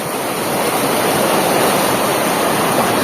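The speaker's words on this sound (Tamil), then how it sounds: "அதிக அளவில் உபரி நீர் வெளியேற்றத்தின் காரணமாக நிறைய தண்ணி போகுது" Surplus water from a swollen village pond rushes out in a loud, steady roar, continuous and close with no pauses.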